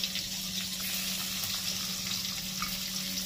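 Chopped garlic sizzling in hot oil for palak paneer, a steady, close, continuous hiss and crackle with no talk.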